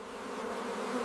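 A dense swarm of honey bees drones steadily around hive frames during honey harvesting, a close, continuous buzzing hum with no talking.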